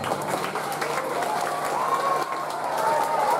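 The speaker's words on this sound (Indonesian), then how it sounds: "Tepuk tangan untuk paduan suara." Steady applause for a choir from a crowd filling the room at a Christmas Mass celebration, continuous and fairly loud throughout.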